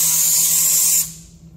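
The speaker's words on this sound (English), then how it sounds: "I'll just spray it right out of the top of the can there." An aerosol can of cleaner sprays in one loud, close, steady hissing burst lasting about a second, then cuts off sharply into near quiet.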